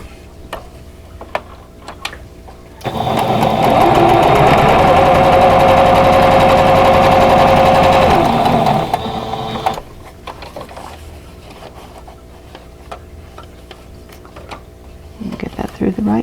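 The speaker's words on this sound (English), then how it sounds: "So just put them right sides together and sew a 1/4 inch away from both sides of the drawn line." Sewing machine stitching pieces of a vintage quilt block, a loud steady whirring run of about six seconds that starts and stops abruptly, with quieter handling sounds before and after.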